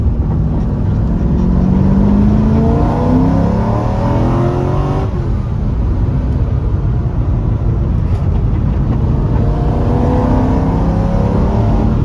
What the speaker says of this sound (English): we're going to drive around for a little bit longer and do some like higher RPM shifting